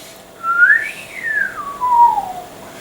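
Someone whistles a single sliding tune that rises, then falls in a few smooth glides, clear and loud against a quiet room.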